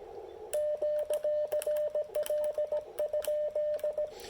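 An Icom IC-705 radio transceiver sends a steady string of short electronic beeps in a quick, irregular keyed pattern while tuning, faint and close, with no voices.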